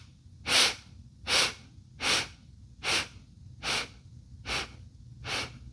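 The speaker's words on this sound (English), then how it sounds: "we're going to inhale in 8 sniffs." Eight short, sharp sniffs are drawn in through the nose one after another at an even, steady pace. The breathing sounds close and clear against an otherwise quiet background.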